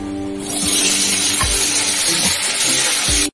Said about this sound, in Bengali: এই যে ঢেঁড়সগুলোকে ধুয়ে মুছে আর কেটেছি, এটা আবার ভাজবো।